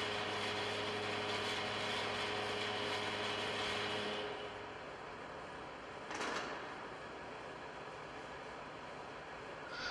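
Milling machine taking successive cuts on a metal block, a steady mechanical hum with tonal whine that drops away after a few seconds, then a brief scraping swish over a quiet motor drone.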